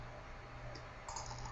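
Computer keyboard keys pressed while navigating Blender's 3D view, a couple of faint soft clicks over a low steady hum, with no speech.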